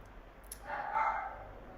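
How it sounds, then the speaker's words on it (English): A dog gives one muffled, short bark at moderate distance, brief and somewhat soft against quiet background noise. "I have a dog, so this."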